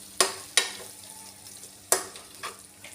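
Amaranth leaves and tomato fry being stirred in a pan, a few sharp spoon scrapes over a low steady sizzle, close up and without speech.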